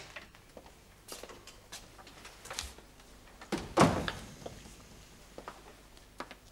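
A back door in a 1970s period drama household setting opens and closes, heard as a soft thump and rattle at mid-distance, with a louder door knock or thud in the middle among quieter room sounds.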